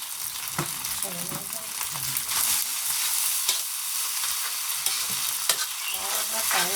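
Pork fried rice sizzles loudly in a hot pan under steady frying hiss, while a spatula stirs and scrapes with sharp knocks against the metal.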